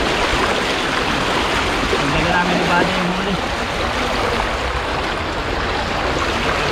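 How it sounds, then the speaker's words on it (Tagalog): Strong sea current rushing during shellfish diving, a dense continuous wash of water noise throughout, with someone speaking briefly over it. "Maraming lakas ng agos ngayon, no?"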